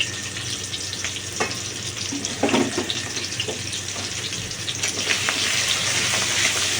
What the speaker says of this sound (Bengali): এবার আমি এই পেঁয়াজ আর রসুনটা দেবো শুধু একটু ভেজে নিয়ে